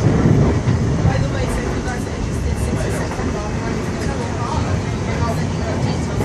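A South West Trains Class 450 electric unit runs between Surbiton and Wimbledon toward London Waterloo, heard from onboard as a steady, loud rumble with rail clatter, and a voice speaks over it throughout.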